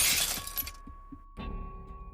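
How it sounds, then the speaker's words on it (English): A thrown brick hits a minivan windshield in a grocery store parking lot, and the glass gives a loud, crunching shatter followed by tinkling debris and a second crackling burst. "There was a satisfying crunch as the glass buckled"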